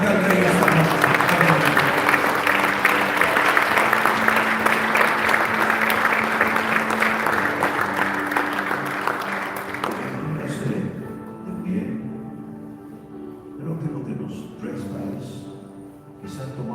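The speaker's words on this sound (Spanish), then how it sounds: "Si usted lo cree, aplauda fuerte al Rey esta noche." A church congregation claps loudly and continuously for about ten seconds, a dense roar of applause with crowd noise and voices mixed in, then it thins out and fades to scattered sound.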